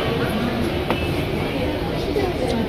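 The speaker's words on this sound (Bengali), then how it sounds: "ফাইনালি মেট্রো ট্রেন চলে এসেছে।" A Mumbai metro train pulls into a station with a steady low rumble and rail noise, and a voice talks over the train throughout.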